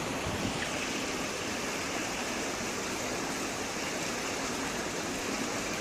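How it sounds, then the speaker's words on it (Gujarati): Swollen river floodwater after heavy monsoon rain in Gujarat, rushing steadily as a dense, continuous roar that stays loud and even throughout with no voices. "વડિયા કુકાવાવ પંથકમાં મેઘતાંડવથી નદી નાળા બંને કાંઠે વહેતા થયા"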